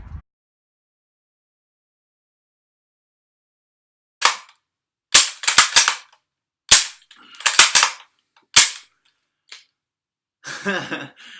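Lee Enfield No.1 Mark III rifle fired in a quick series of about six sharp, loud shots, each cracking and echoing briefly, with pauses of about a second between them, ending in a rattling, clattering burst.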